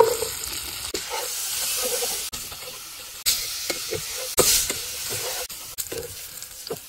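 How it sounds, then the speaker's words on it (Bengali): Flat beans fry in a pan with a soft continuous sizzle while a spatula stirs and scrapes, giving repeated clicks and knocks against the metal. "তা সুন্দর মতন নেড়ে নিব। সিম দিয়ে দিব।"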